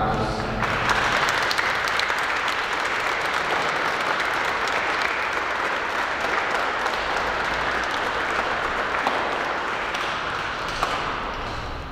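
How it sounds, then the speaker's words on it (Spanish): A crowd at a quinceañera-style celebration in Tula, Tamaulipas gives the honorees a long, loud round of applause, continuous dense clapping with voices murmuring underneath throughout. "Vamos a darle un fuerte aplauso a nuestros festejados."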